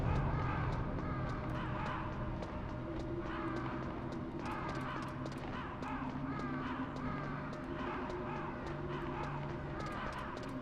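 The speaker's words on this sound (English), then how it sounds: "ravens are really good birds. Super intelligent." Ravens caw over and over in a Metal Gear Solid game scene, harsh repeated calls from several birds overlapping across a steady low ambient drone.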